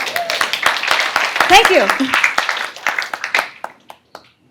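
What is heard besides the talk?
audience clapping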